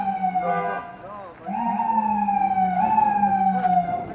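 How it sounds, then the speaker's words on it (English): Emergency vehicle sirens wail with rising and falling tones on a snowy day in Crown Heights, Brooklyn, fairly close and prominent, with a brief dip before a long sustained wail. "Sirens going up in Crown Heights"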